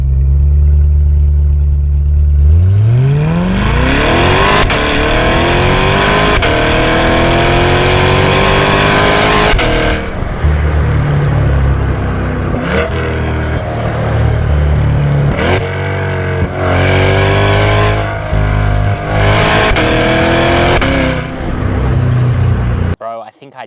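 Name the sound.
2025 Chevrolet C8 Corvette driving, exhaust sound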